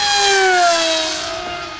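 A HobbyKing SkyFighter RC airplane motor runs at full throttle with a steady, high-pitched electric whine. Its pitch sinks slightly as the plane moves away, and no one talks.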